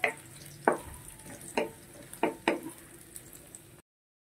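Garlic sizzles softly in a hot pan under a faint frying hiss, with several distinct spatula stirs and scrapes spaced through it, fairly quiet and close.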